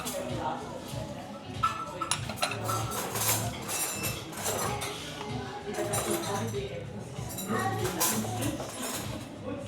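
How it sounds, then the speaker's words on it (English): Fork and spoon scrape and clink against a plate while cutting food at a restaurant, light irregular taps under ongoing nearby conversation. "I'm like over here cutting it with my fork and spoon"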